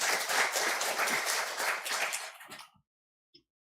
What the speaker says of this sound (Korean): 하나님께 영광의 박수를 한번 치겠습니다.